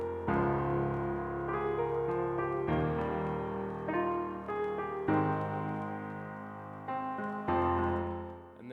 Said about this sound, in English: with both pianos laid on top of each other, it sounds like this.